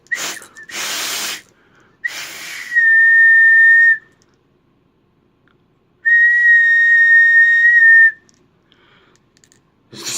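A small, cheap rape whistle is blown in two long, shrill, steady blasts separated by a pause, preceded by breathy puffs and rustling handling noises.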